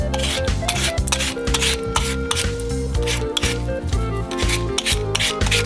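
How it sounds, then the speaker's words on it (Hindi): Peeled potatoes are scrubbed clean by hand in a water-filled sink, with rapid, rhythmic rubbing strokes repeating closely throughout over a steady tonal backing, and no talking. "प्रत्येक आलू को गंद से साफ करेंगे"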